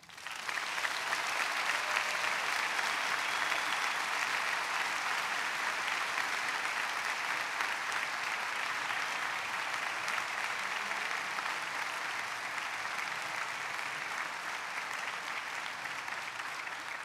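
Graduation audience at a Christ Presbyterian Academy 2019 commencement gives the class valedictorian a long, even round of applause, dense clapping filling the hall steadily without speech.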